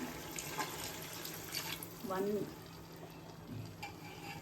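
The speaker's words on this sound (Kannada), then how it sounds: "ಈ ಸ್ಟೇಜಲ್ಲಿ ಮಟನ್ ಬೇಯಿಸ್ಕೊಂಡಿರೋ ನೀರು ಹಾಕ್ತಾ ಇದ್ದೀನಿ" Mutton cooking water is poured into a pot of spicy Chennai-style mutton biryani masala, a quiet, close splash and gurgle rising briefly midway, with a few faint spoken words nearby.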